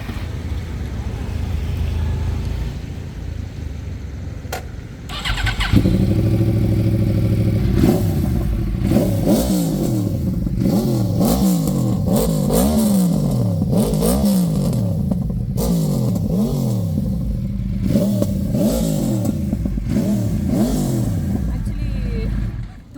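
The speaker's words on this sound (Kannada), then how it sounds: "ಬನ್ನಿ, ಇನ್ನೇನಕ್ಕೆ ತಡ, ಈ ಗಾಡಿ ಸೌಂಡ್ನ ನಿಮ್ಮೆಲ್ರಿಗೂ ಕೇಳಿಸ್ತೀನಿ." A Yamaha R1 crossplane motorcycle with a 1-litre inline engine idles, then blips and revs repeatedly in a rising-and-falling pattern, loud and close, for around seventeen seconds.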